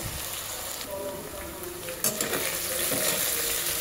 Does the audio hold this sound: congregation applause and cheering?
no